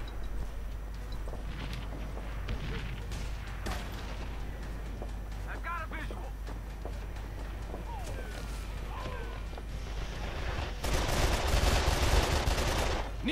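Multiplayer gunfire in Call of Juarez The Cartel, scattered shots and bursts of varying distance over a steady background rumble, with a louder stretch near the end and game voices talking over it.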